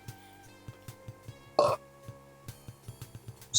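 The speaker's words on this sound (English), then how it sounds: "I like burping. I like to burp" A single loud, brief burp cuts through a soft rhythmic backing track of regular beats, close and abrupt, with another short burst at the very end.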